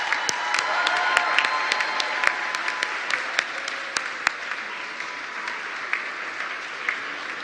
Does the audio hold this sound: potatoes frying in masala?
no